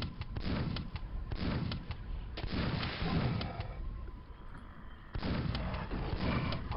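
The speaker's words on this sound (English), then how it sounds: "Stop shooting me with grenades when I'm trying to fight a thing that is jumping at me with claws" Repeated heavy booming blasts of grenade explosions in the game Quake, dense and loud across the whole stretch, with a brief lull before another burst.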